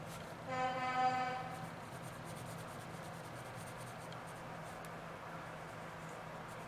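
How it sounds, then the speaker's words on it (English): A loud semi-truck horn blares briefly in the distance near the start, then fades into quiet background rumble. "Okay, semi-truck, we heard your horn."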